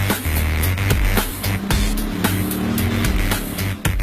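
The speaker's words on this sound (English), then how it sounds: "this Scorpion tears up the track with a hydrogen internal combustion system" A Scorpion supercar with a hydrogen internal combustion engine drives hard on a race track. Its loud, rough engine note rises and falls through quick gear changes, with sharp bursts and clatter throughout.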